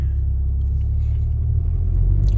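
Volkswagen GTI idling into gear and pulling away with traction and stability control switched off, a steady low engine rumble close by throughout, with no talk over it.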